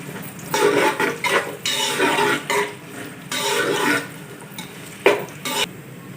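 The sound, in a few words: chopped onions frying in hot ghee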